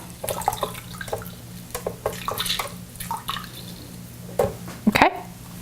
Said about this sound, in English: I'll just put my little colander over here and squeeze